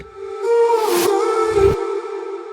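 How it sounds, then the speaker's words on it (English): A sustained, eerie processed vocal tone with a wavering pitch and breathy swells, a spooky-sounding vocal chop heard alone. "like a really spooky kind of vocal chop"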